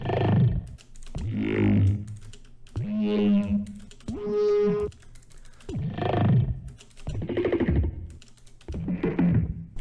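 A dark, bubbly, very low synth bass from a festival trap track built in Ableton Live 12 pulses in a string of growling, wobbling notes, loud and up front with no voices.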